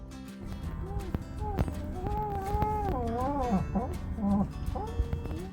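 Wavering, rising and falling howls like a husky's, coming from under a car's hood from an engine that ran out of oil twice, repeated over several seconds beneath a steady low rumble and some talking.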